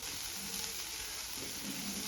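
Chopped onion and ginger garlic paste frying in a pan for cheese paneer pav bhaji give a steady, dense sizzle that crackles continuously without pause.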